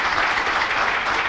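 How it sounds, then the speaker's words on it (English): A round of applause from an audience for everyone on a university climate engagement program, a brief steady wash of many hands clapping at moderate loudness. "if we could have one last round of applause for everyone on the program"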